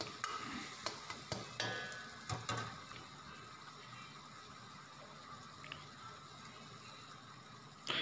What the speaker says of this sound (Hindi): इसके बाद हम इसके अंदर ऐड कर लेंगे थोड़ा धनिया और अच्छी तरीके से इनको मिक्स कर लेंगे